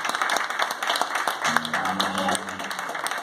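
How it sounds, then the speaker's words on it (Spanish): A crowd at a rock show in a club claps enthusiastically, with a dense patter of hands throughout, and a low sustained bass note rings underneath partway through. "Fuerte el aplauso a Juanjo."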